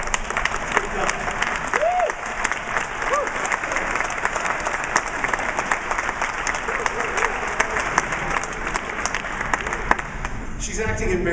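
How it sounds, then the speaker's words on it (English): Sustained applause fills a banquet hall at an awards dinner honoring a longtime board member, dense steady clapping from a large audience with brief voices and a few whoops rising over it, fading near the end. "I know you love the applause"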